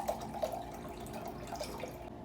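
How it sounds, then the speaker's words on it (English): Jose Cuervo margarita mix, ready-made with a little alcohol, is poured over ice for a watermelon margarita, making a soft, close trickle with a few light clinks and splashes. "I'm going to pour in my Jose Cuervo margarita mix."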